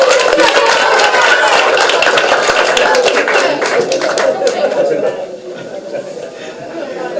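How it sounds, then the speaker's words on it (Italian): Audience applause for Michele at an Italian public awareness event, a loud, dense wash of clapping with light laughter and chatter that holds steady, then thins slightly toward the end. "applauso a Michele"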